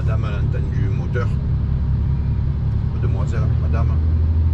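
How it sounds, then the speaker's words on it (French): A car engine rumbles steadily from inside the vehicle while someone talks over it. "La madame a entendu le moteur."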